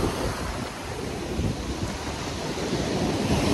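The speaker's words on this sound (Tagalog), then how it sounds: "Ang lakas ng alon!" Strong ocean waves crashing in gusty wind, a loud broadband roar with buffeting rumble against the microphone, continuous and unbroken with no voices.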